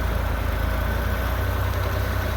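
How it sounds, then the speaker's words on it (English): A farm truck's engine idles steadily on a hay field, a loud low rumbling drone with constant vibration and no voices. "Jeffries can go ahead and start the engine up, and we'll get going"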